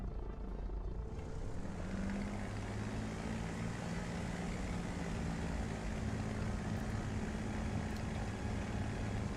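A propeller aircraft engine throttles up in a flight simulator game, a loud steady drone that rises within the first second and then holds continuous and close throughout.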